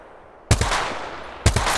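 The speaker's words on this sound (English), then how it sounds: "Shots fired." Gunfire in Apex Legends: two close, loud sharp bursts about a second apart, each trailing into a ringing rattling decay.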